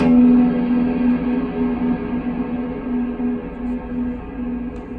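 An electric guitar swells through a cloud reverb pedal, with a sustained note blooming into a large, washy, shimmering pad that holds steady and slowly thins out, with no voices.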